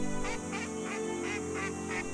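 A duck quacks in a fast repeated series of loud, nasal calls, about six in a row, close by and steady against a busy background, as the bird spreads preen-gland oil across its feathers.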